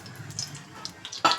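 Oil heats in a pan while chicken liver masala is being cooked, giving a soft, close sizzle and crackle that swells with a brief louder burst near the end.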